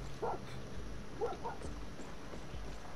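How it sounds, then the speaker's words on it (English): A dog in the video game Far Cry 6 gives a few short, faint barks and yips from a distance, spaced out over a low steady background hum. "There's a dog in this one. I hear the dog."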